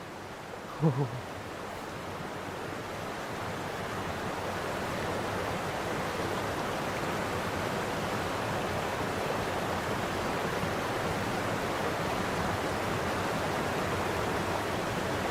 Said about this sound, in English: I can hear waterfalls